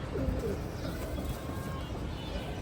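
An old pigeon at a pigeon show coos softly with a few low, throaty notes under faint background noise.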